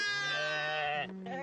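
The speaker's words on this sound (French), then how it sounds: "Ce matin, c'est un frère de Moa qui s'occupe des moutons" A sheep bleating inside a tent enclosure in Morocco's Atlas region: one loud, close, drawn-out wavering bleat followed by a shorter second cry, with no other sounds.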